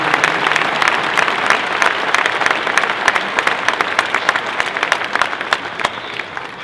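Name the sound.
applause for young people driving the champion hogs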